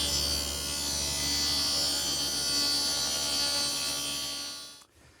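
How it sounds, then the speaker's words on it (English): A stacked dado head cutter on a table saw cutting mahogany veneer plywood, a loud steady whining drone that runs for several seconds and then cuts off abruptly. "Now to cut that dado, I've set up the stacked dado head cutter."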